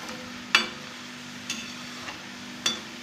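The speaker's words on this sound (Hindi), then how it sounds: "इसे धीमी आग पर ही सेकें इन्हें हम ब्राउन होने तक सेकेंगे" Namak para dough pieces frying in oil over a low flame, a quiet steady background with a few brief clicks of turning or stirring.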